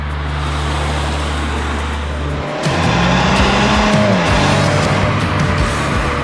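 A MINI JCW Convertible drives with the roof down, its engine droning steadily before the revs jump and sweep through rising and falling gear changes, loud and close.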